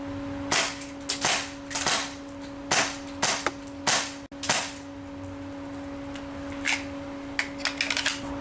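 An airsoft gun fires 3D printed BBs at failed 3D prints, giving sharp close snaps in uneven clusters, about eight loud shots followed by fainter clicks, over a steady background hum.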